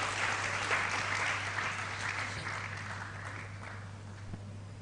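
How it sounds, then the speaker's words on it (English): An audience at an ICT awards ceremony claps steadily for an honoree, a dense, moderately loud wash of applause that slowly tapers off over about five seconds, with a low steady hum beneath. "Please a round of applause for Mrs. Augusto."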